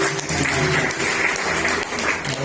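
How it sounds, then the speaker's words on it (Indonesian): A church congregation at an ordination and installation service applauds, a dense, steady wash of clapping from many hands that carries on briefly without pause. "Boleh berikan tepuk tangan buat Tuhan."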